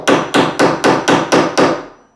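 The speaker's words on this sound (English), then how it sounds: "I've got a 32-ounce hammer, always have had." Six evenly spaced, loud hammer blows from a 32-ounce hammer knock together a glued staircase during construction, each strike sharp and ringing, the last one fading out.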